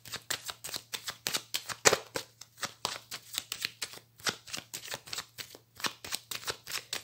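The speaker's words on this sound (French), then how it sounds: "Je vais faire une coupe avec le tarot." Deck of tarot cards being cut and handled, a rapid run of soft papery flicks and riffles, close up and fairly quiet, with no talking.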